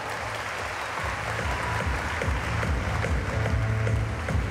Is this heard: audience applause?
yes